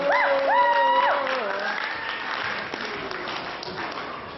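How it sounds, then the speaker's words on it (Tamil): Audience applause at an annual day event run by a Tamil community in Canada, a steady spread of clapping under musical tones and a voice in the first two seconds. "செல்வன் கிஷோர் ராமநாதன் அவர்களுக்கு கரகோஷத்துடன் நன்றிகளை தெரிவித்துக் கொள்கிறோம்."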